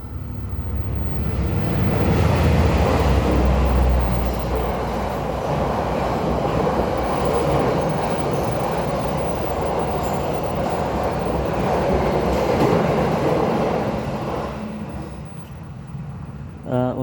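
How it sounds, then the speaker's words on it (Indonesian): A train rumbles past nearby, loud and sustained for most of the stretch with wheel screech and clatter, fading slightly near the end, while someone speaks under it. "Sebentar, ada kereta lewat ya."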